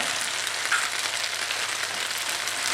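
Egg being scrambled with Swiss chard and leeks in a hot frying pan, a steady dense sizzle with faint stirring, close and continuous with no talk.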